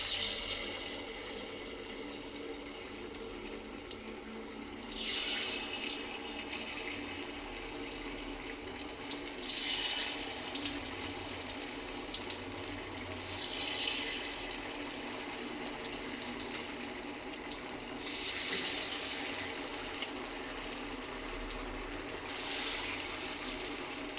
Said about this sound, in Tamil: இப்போ இந்த டிப் பண்ணி வச்சுருக்கதை எண்ணெயில் போட்டுக்கலாம்.